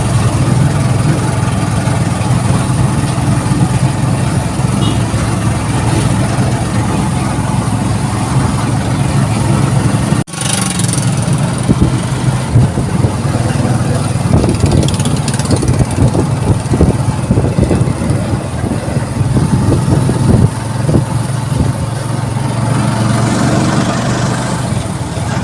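A motorcycle engine idles steadily at close range for the whole stretch, a low continuous rumble with a brief dip near the middle and some rattly texture later on, while people talk faintly in the background.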